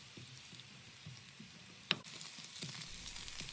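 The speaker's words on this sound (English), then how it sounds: "Now let's go ahead and add the carrots, and let's saute those for about 3 minutes." Carrots and onion sautéing in a pan for a Greek spinach and rice dish, a soft steady sizzle with light stirring scrapes and one sharp clack, close and quiet with no talk.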